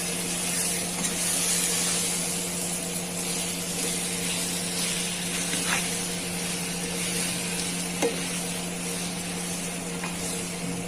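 Mangalore-style banana pieces fry and caramelize in a pan, giving a steady close-up sizzle that runs unbroken throughout, with a faint scrape or two and no voices.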